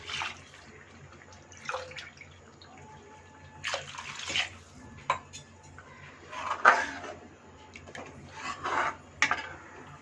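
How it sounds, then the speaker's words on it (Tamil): Two tumblers of water splash and pour into a pot for coconut milk rice in short bursts, with metal clinks of cookware in a quiet kitchen. "தண்ணி ஊற்றிக்கிறேன்."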